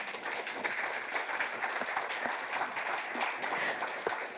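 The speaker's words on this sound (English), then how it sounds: "I'm going to give that a round of applause just for me" An audience at a forests and communities conference claps in a continuous, full round of applause that holds at an even level from start to finish, with no one speaking over it.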